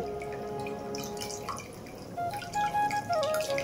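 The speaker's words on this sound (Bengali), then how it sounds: "একটু ঠান্ডা জল দিয়ে ছানাটা আমি ভালো করে ধুয়ে নেব।" Chhana, fresh Indian curd cheese, being rinsed under cold running water in a kitchen, a steady close trickle and splash with dripping, getting louder and more gurgling toward the end, no voices.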